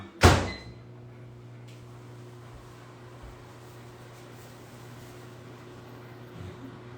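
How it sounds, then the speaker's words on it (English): A microwave oven door shuts with a single loud thunk near the start, followed by a steady low hum from the running microwave; green beans are being heated for a keto dish. "I'm putting it in the microwave right now."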